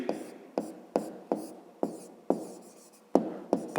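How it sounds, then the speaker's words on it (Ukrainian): Pen strokes on paper while working a fifth-grade math exercise, a series of short scratchy writing bursts in a steady rhythm, close and clear with no talking. "Записуємо тоді."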